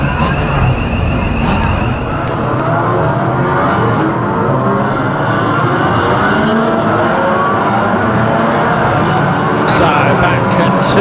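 1300 stock cars race at Kings Lynn raceway, engines roaring and revving continuously and loudly from near and far as the pack laps the circuit, with a race commentator talking over the din throughout.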